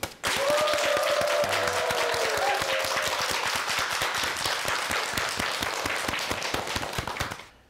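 An audience claps steadily to welcome a lecture on the taste of study, the dense applause holding for several seconds before fading, with a brief voice near the start.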